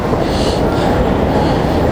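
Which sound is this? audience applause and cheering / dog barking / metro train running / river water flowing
metro train running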